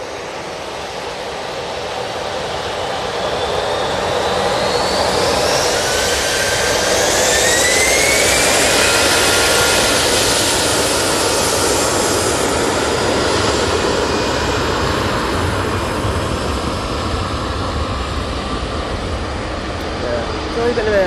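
A jet airliner departs Manchester Airport bound for Alicante, its engine roar swelling from quiet to a loud, sustained peak with rising whine, then slowly easing as it climbs away, with a voice talking over it.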